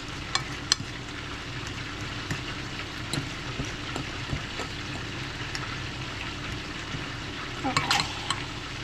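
Steak fries in butter in a pan, a continuous close sizzle and crackle with scattered sharp pops and a brief burst of spattering near the end, with little or no talking.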